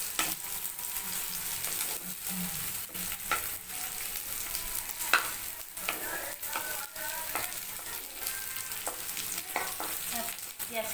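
Chopped onions fry lightly in a hot pan, giving a steady close sizzle broken by frequent scraping stir strokes throughout, with no talking over it.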